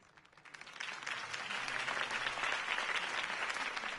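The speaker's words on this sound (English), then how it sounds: "If only Mr. Wayne, my campaign's largest backer, could have heard that applause" Crowd applause after a campaign speech in a Batman video game, swelling from a few claps into sustained, dense clapping that holds steady to the end.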